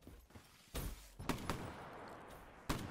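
Shotgun blasts in Black Ops 3 Gun Game mode, four sharp loud reports spaced irregularly over low game background noise.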